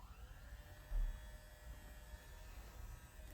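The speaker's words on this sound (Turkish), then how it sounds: "Bir tane de vanilin ekliyorum ve güzelce karışana kadar çırpıyorum" Electric hand mixer whisking labneh cheese with vanilla for a no-bake cake, a steady close buzzing whir running throughout with one brief louder bump near the start, no talking.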